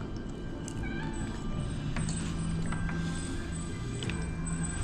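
Cats meowing at an eatery in Baguio selling smoked chicken, a few faint high calls scattered across a steady low background hum and chatter.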